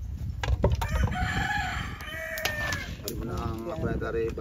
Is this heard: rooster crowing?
yes